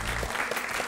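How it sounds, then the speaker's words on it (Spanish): A short burst of applause from a group, steady clapping throughout with no pauses. "Herminia, un aplauso que te mereces."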